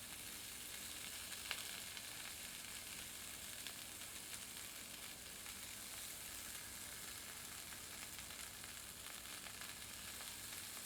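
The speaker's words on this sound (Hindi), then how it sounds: "गर्म तवे में सीख कबाब रखते हैं। ऊपर से घी की कोटिंग करते हैं।" Chicken seekh kebabs sizzle in ghee on a hot iron tawa, a faint, even hiss that runs steadily with no breaks and no voices.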